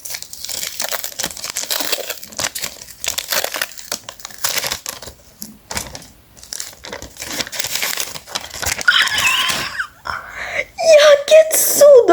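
Paper crackles and crinkles up close in irregular bursts as it is handled and unwrapped, with brief quiet gaps and a faint voice near the end.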